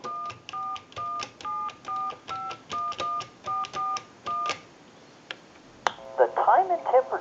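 Touch-tone keypad on a Western Electric 2500 desk telephone dialing a call: about eleven crisp, evenly spaced DTMF beeps in quick succession, a short pause, then the line connecting with a faint ringback and a recorded voice starting.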